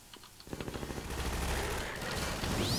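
Rapid automatic gunfire crackles in Half-Life 2, a fast burst of evenly spaced shots followed by a dense, continuous din of weapons and explosions, loud and close.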